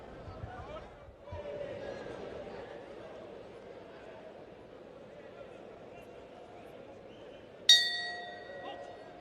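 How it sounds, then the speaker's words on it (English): A boxing ring bell at an international team bout sounds one bright, ringing strike that decays slowly, coming late after a stretch of commentary over arena murmur. "So bell goes."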